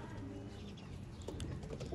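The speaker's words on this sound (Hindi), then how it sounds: "ये है जी दोस्तों बड़ा कबूतर।" Large pigeon kept by a Sialkoti pigeon fancier cooing softly, low throaty coos over faint background bustle, fairly quiet and close.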